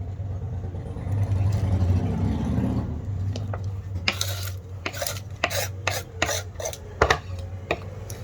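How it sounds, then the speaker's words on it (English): A knife cuts through a boiled egg, first a low background hum, then a series of sharp, evenly spaced taps and clicks against a hard surface, fairly close. "What I like to do, first of all, cut it in half."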